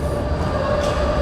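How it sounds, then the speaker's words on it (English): A noisy tram rolls past in a Melbourne street during a rally, giving a steady, loud rumble of wheels on rail with a faint high whine throughout, and no voices in the moment. "noisy tram."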